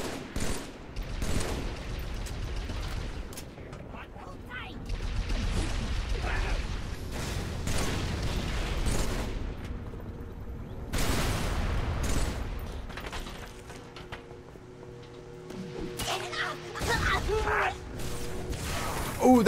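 Gunfire in the video game Halo 3, steady bursts of shots and mechanical weapon clatter through most of the stretch, fairly loud, with a player talking over it.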